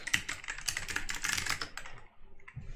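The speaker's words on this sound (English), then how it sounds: "Typing a link," Someone types a link on a computer keyboard, a quick, close run of light, dense key clicks that briefly pauses and then resumes, with no voices.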